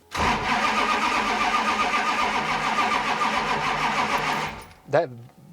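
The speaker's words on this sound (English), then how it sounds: "Golly, that starter just drags" A racecar's starter motor cranks slowly and drags against a new engine, a loud steady grinding churn that runs for several seconds and then cuts off, followed by a brief clunk.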